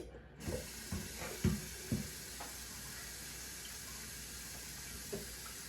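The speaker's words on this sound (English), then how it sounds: "I'm gonna put some water to boil." Faucet water runs into a pot to be put on to boil, giving a faint, steady hiss, with a few soft knocks of cookware near the start.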